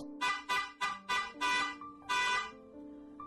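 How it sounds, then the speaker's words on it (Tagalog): A car horn honks from behind a vehicle in a quick series of short toots and then one longer blast, close and clear, with no voices. "biglang may bumusina sa kanyang sasakyan mula sa kanyang likuran"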